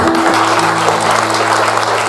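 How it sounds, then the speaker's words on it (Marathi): A church congregation at a Christmas celebration applauds together, a dense, loud, continuous wash of clapping with a low hum beneath it. "आणि या ललिता ताईला आपण टाळ्या वाजवूया"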